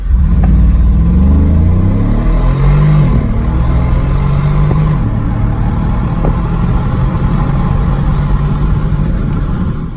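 A Mercedes-AMG G63 engine pulls hard under acceleration, its loud, steady roar stepping up in pitch through gear changes and holding close and continuous throughout.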